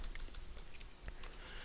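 Quiet typing on a computer keyboard, a quick irregular patter of light key clicks with a few brief pauses, close and soft, no talking.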